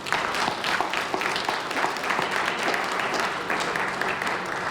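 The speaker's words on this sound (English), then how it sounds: "Just one final round of applause for just an unbelievable evening." Crowd at a jersey retirement celebration in a college basketball arena gives a final round of applause, dense and steady clapping throughout at moderate loudness.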